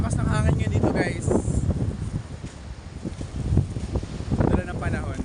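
Strong seaside wind buffets the microphone in heavy, gusting rumbles, while someone talks steadily over it throughout.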